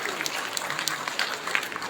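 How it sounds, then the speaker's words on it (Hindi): Applause from the audience at an award ceremony honouring election officials, where the Governor presents the awards; dense, steady clapping with scattered sharper claps runs through the whole stretch at moderate volume. "जोरदार तालियां होनी चाहिए करमचंद टप्पू जी के लिए।"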